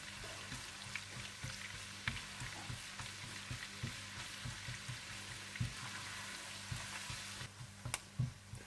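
Julienned ginger fries in a pan for ginger chicken, giving a soft, faint, steady sizzle with a dense run of small crackles and light taps, quiet and close, with no talking.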